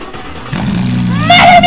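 Engine of the fastest car in the Roblox video game starting, a low rumbling hum that rises into a steady drone, joined near the end by higher whining game tones.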